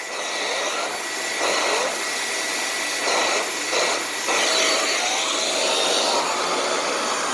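A Bissell Pet Hair Eraser Slim stick vacuum with its turbo tool runs on furniture, a steady high whine that bogs and rises in repeated surges as the brush meets the fabric.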